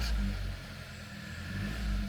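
A 2014 Audi A3 with a freshly swapped engine runs without idling steadily, giving a close, low engine drone that swells at the start and end of the moment.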